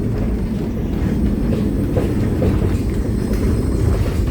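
Steady, loud rumbling and clattering of a Eurotunnel train carriage in motion between the UK and France, with a continuous low roar and faint rhythmic rattles throughout, no voices.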